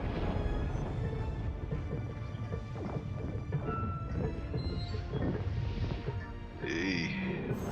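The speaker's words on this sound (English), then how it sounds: "The clattering of its machinery settles into a low whir and then, at last, hiccups to a halt." A storm-controlling machine in the Pillars of Eternity 2 video game winds down, its loud, dense mechanical clatter and rumble grinding on steadily before shifting near the end, with no talk over it.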